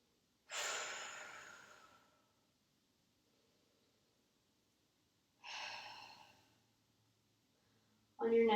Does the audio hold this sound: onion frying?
no